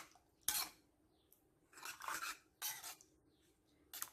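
Fish stirred with water for kappa meen puzhukku, a Kerala tapioca and fish dish: three short bursts of scraping and clinking from a spoon against the pot, separated by quiet pauses.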